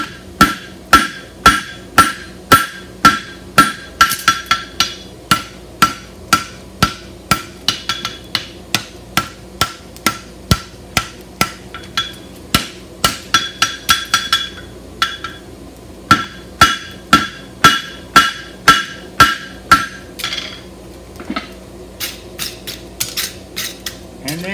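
Steady hammer blows on hot iron while forging a European hind barshoe, ringing strikes in a regular rhythm with brief pauses, close and loud, no talking.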